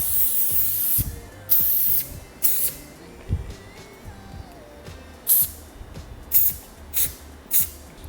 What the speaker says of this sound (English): I'm trying to spray more on my highlight area.